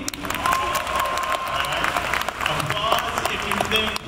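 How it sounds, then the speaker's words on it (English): Convention audience at a fan expo panel for the TV show The Office clapping and cheering for several seconds, a dense crowd wash with scattered whoops, while voices talk over it. "Applause if you think it was Toby"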